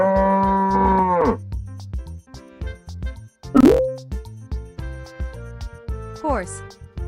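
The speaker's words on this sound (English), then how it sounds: "Cow." A cow gives one long, steady moo at the start, set over a bouncy, rhythmic music backing, followed by a sliding cartoon-like sound effect.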